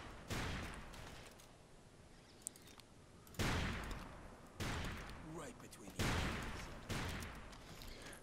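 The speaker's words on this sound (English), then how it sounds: "oh, I'm going to shoot you now." Gunfire in the blocky shooter game Ace of Spades, several loud close bursts of shots each trailing into a long echoing decay, with a voice talking in between.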